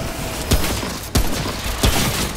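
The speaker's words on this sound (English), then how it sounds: "I hate that artillery shot, really." Three loud, sharp explosive blasts from an artillery weapon in the video game Remnant: From the Ashes, spaced roughly evenly over a couple of seconds against a steady background of game noise.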